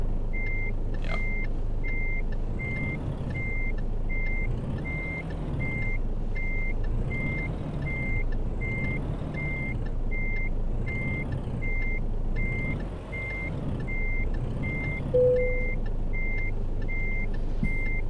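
A truck in Euro Truck Simulator 2 sounds its reversing alarm, a regular string of sharp electronic beeps over a steady low engine rumble, with no voices.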